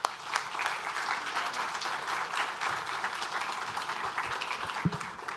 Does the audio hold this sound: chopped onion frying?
no